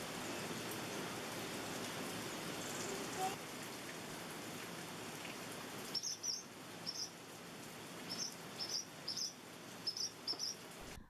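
Steady rain falls outside a farmhouse, a soft continuous hiss throughout, with faint chirps of birds or insects appearing over it in the later part.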